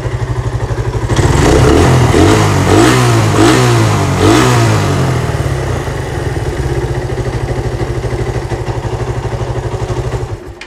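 A Suzuki Satria FU 250 motorcycle fitted with an RX King PE 26 carburetor starts up loud and close, revs unevenly for several seconds, then settles into a steady, throbbing idle.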